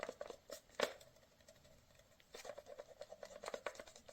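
An Einhell 18V battery is wiggled inside a Parkside EIN18PAR/EIN18PAK adapter, making faint, close scattered clicks and light scraping rattles in uneven bursts, with no voices.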